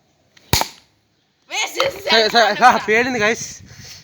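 A single Diwali firecracker bursts with one sharp, fairly weak crack, followed after a pause by a person talking.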